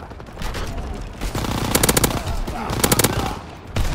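Call of Duty WW2 combat with rapid machine-gun bursts rattling loud and close, two dense volleys among scattered shots and battlefield din.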